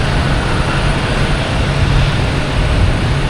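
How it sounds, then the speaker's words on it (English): A Cape Air plane takes off at Boston Logan Airport, its engine noise a loud, steady, close roar with broadband rumble and hiss that holds throughout. "We have a Cape Air taking off now."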